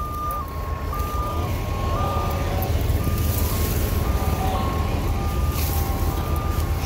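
A truck's backup alarm beeps in a steady, evenly spaced pattern while unloading apple tree trimmings at a dump, sitting over a constant loud engine rumble and outdoor noise.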